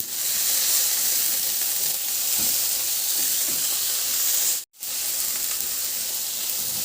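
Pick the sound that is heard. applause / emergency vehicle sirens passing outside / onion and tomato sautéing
onion and tomato sautéing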